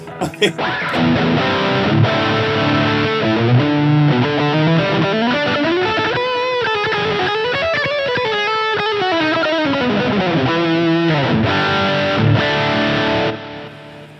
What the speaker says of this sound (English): we've got the echo in the effects loop of the binary